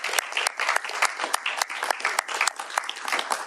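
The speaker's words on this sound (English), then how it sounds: "Let's give her a round of applause for her hard work." A round of applause at a governor's bill signing ceremony, steady dense clapping from an indoor audience that fills the whole stretch without a break.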